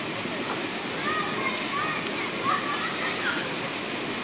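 A stream at a picnic spot, steady rushing water flowing continuously at close range, with faint voices of children and people talking in the background.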